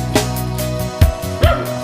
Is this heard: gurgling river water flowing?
no